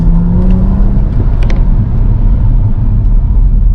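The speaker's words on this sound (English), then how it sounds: "It's actually quite a decent sort of roar. You can tell it's a 6-cylinder." A BMW 435i convertible's N55 six-cylinder engine gives a loud, steady roar with deep low rumble, holding constant throughout with no voices.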